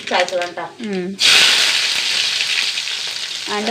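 Mustard seeds, garlic and shallots hit hot oil in a pan for a curry, setting off a loud, steady sizzle right after a brief stretch of talk, with the voice returning briefly near the end.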